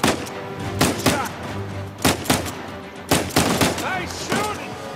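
Repeated bursts of gunfire from a firefight in the video game Uncharted 4: A Thief's End, loud sharp volleys spaced a second or so apart over a busy background of combat noise.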